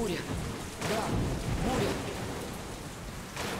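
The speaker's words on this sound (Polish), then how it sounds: "Burza." Thunderstorm with steady rain in the video game Metro Last Light, a continuous wash of rain noise with low rolling rumbles, under faint voices.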